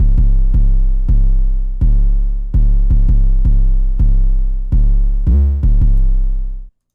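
A deep, booming 808 bass repeats a simple pattern of sustained low hits alternating between two pitches, loud and heavy, then cuts off.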